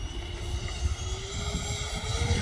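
A Freewing F-22 90mm RC jet roars through a fast low pass, a steady whooshing rumble overlaid with a rising high turbine whine, heard outdoors with no talking.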